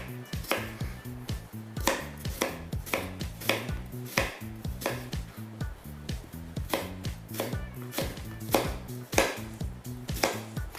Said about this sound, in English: Now, these are onions. I'm just going to cut them over like that.